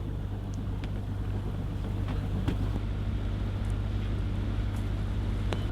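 A boat's engine runs at sea off Arctic Norway, a steady low drone with wind rushing across the microphone and a few faint knocks, continuous and close.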